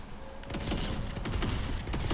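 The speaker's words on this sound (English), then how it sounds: "Is this gun fully automatic? Let's find out. Oh my god, this is a fully automatic." A fully automatic gun fires in Fortnite, a rapid unbroken stream of shots rattling loud and close for about two seconds.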